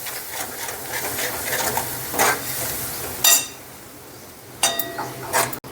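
A spoon scrapes and clinks against a pan in quick bursts of stirring yogurt, with a soft sizzle underneath and a few sharper metallic knocks.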